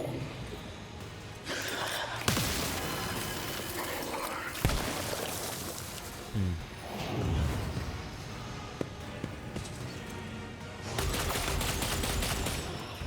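Gunfire in the video game Warhammer 40,000: Rogue Trader, bursts of shots and rapid fire with impacts and game effects, fairly loud and dense across the scene, mixed with breathy vocal sounds.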